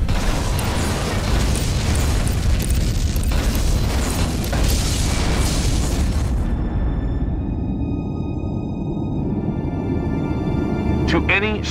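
A Romulan ship explodes in the 2006 game Star Trek Legacy as a loud, dense roar of booming blast noise that cuts off abruptly, leaving a thin ringing hum and a final faint rising whoosh.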